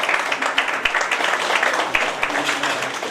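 An audience at a skincare aromatherapy class in Hisar, Haryana breaks into loud, close applause to welcome a guest doctor, the dense clapping holding steady with a few sharp claps standing out.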